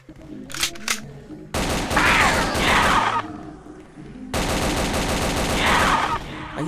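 An Uzi-like submachine gun fires in a zombie video game, with two long, loud, rapid bursts of gunfire preceded by a few shorter shots, all close and dense.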